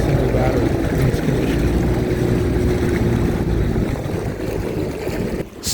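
Levhorzn HJ816 RC deep vee boat running at partial throttle on a choppy lake: a steady, dense motor whine and hull slapping over water, continuous and fairly loud, with wind noise and a slight dip near the end.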